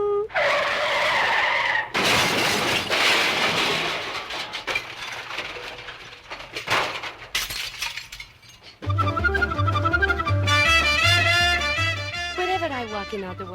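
A car rounds a corner on an Ottawa street with a sharp screech of skidding tyres, followed by a crash and breaking glass, then loud music takes over.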